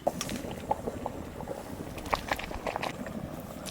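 Rice boils in a pot on a home stove, a low bubbling simmer with scattered soft pops and gurgles that stays close and fairly quiet.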